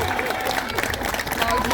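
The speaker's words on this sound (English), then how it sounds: "Round of applause for Philip." Applause from the crowd at a food festival eating competition, brief and mixed with chatter and a host's voice talking over it.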